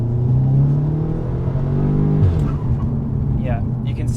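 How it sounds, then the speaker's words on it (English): A 450 bhp Audi S3 8V engine pulls hard uphill with a rising drone, drops sharply at a gear change, then resumes with a few faint pops and crackles from the exhaust. "This car does have pops and bangs"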